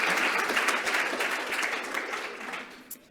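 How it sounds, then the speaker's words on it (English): An audience at a gender and mental health panel forum applauds a professor, a dense wash of many hands clapping that holds steady and then tapers off toward the end. "Can we give Professor a big clap?"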